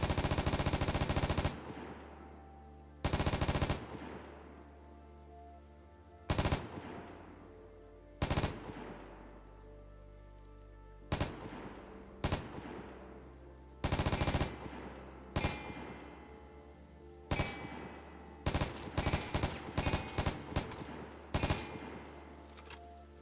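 An M249 light machine gun in the game Vigor fires in loud, close bursts of varying length, the later ones short, clipped and rapid, with brief pauses and trailing echoes between them.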